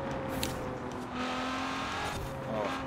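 A Ferrari 599XX in Forza Horizon 4 drones at high revs with tires squealing as it starts to spin, steady and moderately loud, as a voice speaks briefly over it.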